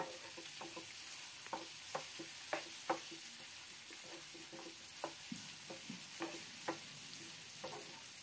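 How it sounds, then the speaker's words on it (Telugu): Boiled button mushroom pieces are stirred into curry in a pan, a quiet sizzle underlying a string of light spoon scrapes and taps at an irregular pace. "ఇప్పుడు మనం ముందుగా ఉడకబెట్టుకున్న మష్రూమ్ ముక్కలు కూడా వేసుకొని కలుపుకోవాలి."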